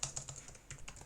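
Quick bursts of keystrokes on a computer keyboard, close and fairly quiet, in an uneven rhythm of about a dozen clicks with a short pause midway.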